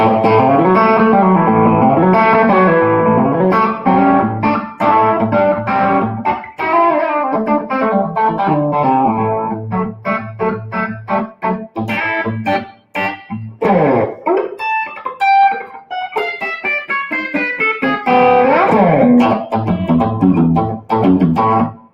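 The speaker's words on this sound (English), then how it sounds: "This is just me making different tones by using my volume knob." Electric guitar with effects plays a series of chords and phrases, its tone shifted between brighter and mellower colors by rolling the volume knob, loud and continuous with no talking.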